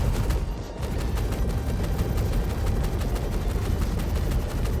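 Heavy weapons on an Anvil F8C Lightning fighter in Star Citizen fire in a continuous rapid stream, loud and close, a dense unbroken roar of shots with no speech over it.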